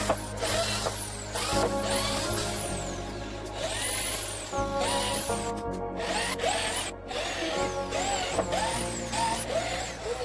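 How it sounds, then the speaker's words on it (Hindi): A power drill with an 8 mm bit bores holes in a panel board, repeated bursts of rising whine that start and stop several times, loud and close. "अब सब चीज़ों को हटा के ड्रिल से होल कर लेंगे"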